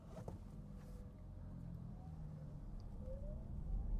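A 2023 Volkswagen ID.4 AWD Pro S electric car emits a faint, airy, UFO-like pedestrian warning tone that rises in pitch over a low, steady road rumble, with no talking.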